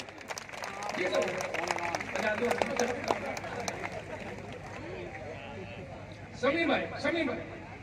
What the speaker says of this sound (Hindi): इसलिए बस सब मिलकर ताली बजाएंगे।